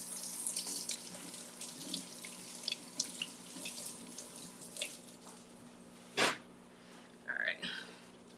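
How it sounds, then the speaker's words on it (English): Vegetables are rinsed under a running kitchen tap while a turkey ramen bowl is prepared. Soft, steady splashing water runs quietly throughout, with a few louder splashes near the end. "let's give these a rinse"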